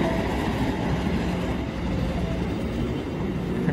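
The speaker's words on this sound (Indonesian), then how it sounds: "Ada kereta api. Kereta api jurusan Surabaya karena dia mengarah ke" A steady, rumbling roar of an eastbound train to Surabaya rolling past, dense and continuous with faint rhythmic clatter, filling the whole stretch.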